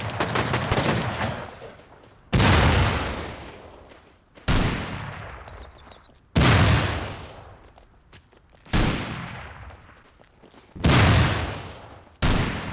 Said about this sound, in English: They are going to continue firing at the base because rockets do not do a whole lot of damage